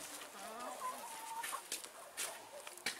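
Several soft clucks from a rooster close by, uneven and spaced out, with faint outdoor ambience and a few light clicks between them.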